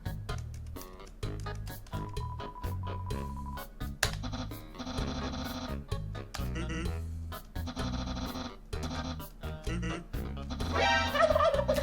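Turkey gobbles from a livestream donation alert ring out loud and repeated in rapid rattling bursts, stacked with chimes and musical tones, playing alone over about twelve seconds.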